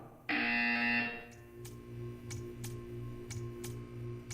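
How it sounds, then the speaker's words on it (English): A loud, harsh electronic buzzer from the video game Portal 2 blares for about a second, then stops. A steady, faint ticking with a low pulsing hum follows. "You will hear a buzzer."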